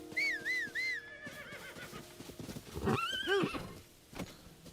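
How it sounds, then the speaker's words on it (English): A horse in the video game Zelda: Tears of the Kingdom whinnies twice in quick succession, close and clear, with clip-clop hoof steps and faint game effects between the calls. "Come here, horsey."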